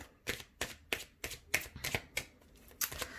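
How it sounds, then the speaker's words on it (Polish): Playing cards riffled and shuffled up close in a run of about eight crisp, rapid bursts, each a sharp flutter of card edges separated by short pauses, with no talk over it. "Uwaga, uwaga, tasuję"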